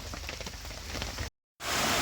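Wind and rain falling together on a farm field, a steady hiss of rain on surfaces with gusty rumble, broken by a brief gap of silence before returning louder.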